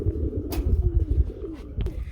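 Danish pigeons, white with red markings, coo in soft, low, throaty rolls close by, with a couple of brief sharper rustles in between.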